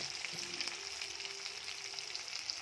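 Onion frying in oil with ginger-garlic paste added for chicken kosha cooking a 1 kg batch of chicken, a soft, even sizzle crackling steadily throughout without pause.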